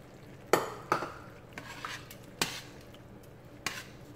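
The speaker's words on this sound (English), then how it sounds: "I need to stir this up so I can taste it and see what is missing" Spoon clacks against a pan while stirring a heavy cream sauce for spicy creamy shrimp and chicken, six sharp irregular taps over a soft, steady background with no talk.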